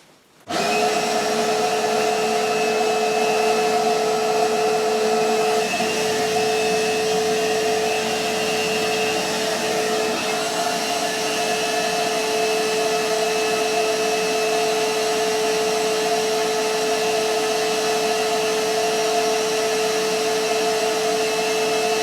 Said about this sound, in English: This is empty, shop vac is empty. I have the sawdust on the floor. So let's see how it works.